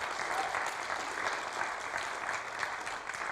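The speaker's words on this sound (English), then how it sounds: "I think that deserves a round of applause" A church congregation at Unity of Boulder gives a steady round of applause, a continuous even patter of many hands clapping at moderate volume.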